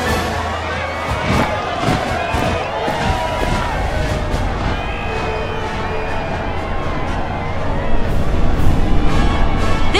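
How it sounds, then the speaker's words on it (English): A crowd cheers and roars continuously in the video game Final Fantasy VII Rebirth, with scattered thumps and a swell of noise toward the end; a voice talks over the din. "Can you even hear me over this crowd?"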